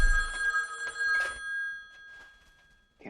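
A telephone bell rings in a short electronic burst of bright, sustained tones, then fades out, heard alone with no talking.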